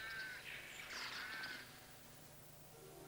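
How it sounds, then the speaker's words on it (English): A rook calls in a garden in winter, a few harsh caws rising over a steady outdoor background, fairly close and clear, then fading into quiet ambience. "Oh, no, that was a rook, wasn't it? That was a rook."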